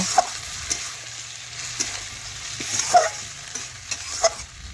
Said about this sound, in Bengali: বেশ কিছুক্ষণ নাড়াচাড়া করে চিকেনটা একটু আমি ভেজে নেব